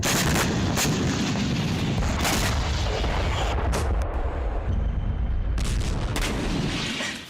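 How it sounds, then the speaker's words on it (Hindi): A nuclear bomb blast from the 1945 desert test in New Mexico gives a loud, deep, continuous roar with rolling booms. It holds for several seconds and eases slightly at the very end. "न्यू मैक्सिको के शांत रेगिस्तान में एक ऐसा धमाका हुआ जिसने मानव सभ्यता को हमेशा के लिए बदल कर रख दिया"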